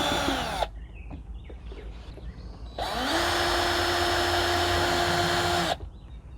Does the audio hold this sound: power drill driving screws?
yes